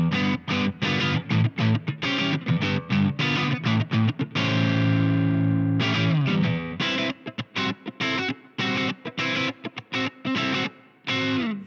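Heavily distorted electric guitar through the Nembrini BG-Extasy amp plugin in Plexi mode plays loud, chopped chords and riffs with sustained crunchy tones between stabs.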